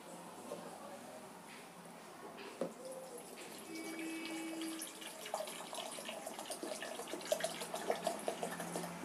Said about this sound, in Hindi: 1 लीटर पानी हमारा जो मिक्सर है हम उसमें ले लेते हैं।